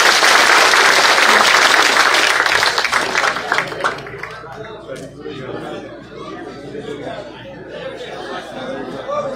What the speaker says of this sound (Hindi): जोरदार तालियों के साथ एक बार इनका हौसला बढ़ाएं।